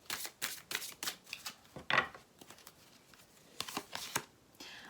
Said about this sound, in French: on va prendre une carte ici